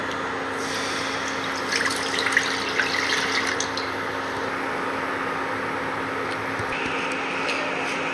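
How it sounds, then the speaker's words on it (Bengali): Water pours steadily into a kadai (cooking pan) while preparing a Bengali raw banana kofta, a continuous close splashing stream lasting several seconds with faint kitchen clinks. "প্রথমে কড়ার মধ্যে দিয়ে দিচ্ছি জল।"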